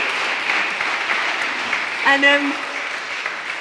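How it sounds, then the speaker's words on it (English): A church audience gives a round of applause, a moderate, even wash of clapping heard throughout, with a brief spoken word and a short tonal sound partway through. "let's give Katie a round of applause"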